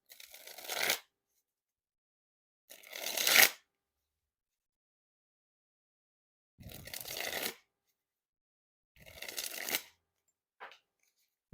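Carvers Watermelon playing cards being dribbled from hand to hand, four separate bursts of fluttering, slapping card noise, close and fairly loud with silent gaps between, plus a brief fifth flick near the end.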